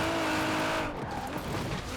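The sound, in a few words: 1000HP Nissan Pulsar GTi-R spinning all four wheels, Forza Horizon 4 game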